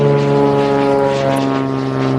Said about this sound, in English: there's a plane flying over.